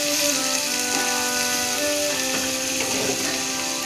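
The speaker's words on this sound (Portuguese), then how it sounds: "Agora eu vou deixar refogar" Garlic and onion sautéing in a pan, a continuous crackling sizzle with faint metallic scraping and stirring clicks throughout.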